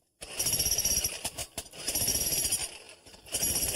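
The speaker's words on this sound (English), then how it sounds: "if you want to use this hammer, I'm going to show you what to do" A hammer chips away at concrete near a column in short, rapid bursts of pounding separated by brief pauses, loud and close, with no talking.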